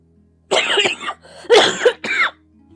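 A person coughs in three sharp, close bursts indoors, with short gaps between them and near silence around.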